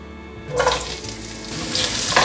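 Sliced cucumbers drop into a hot wok of oil with ginger slices for a vegan stir-fry, setting off a sudden loud sizzle that keeps hissing and crackling up close, with stirring swells near the end.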